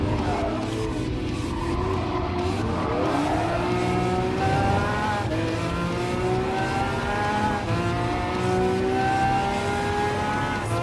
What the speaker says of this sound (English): Let's pull the brakes hard and let that Bayron go past.